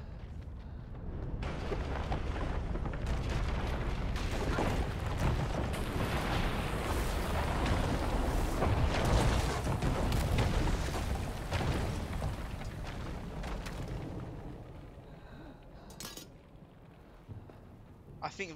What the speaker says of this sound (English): Now we can destroy this Clyphot route. And the route has now gotten destroyed.